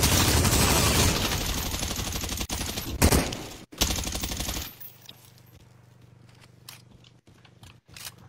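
Dense automatic gunfire from Call of Duty Warzone, a loud continuous rattle of rapid shots for several seconds that breaks off into scattered single cracks and short bursts over a quieter background.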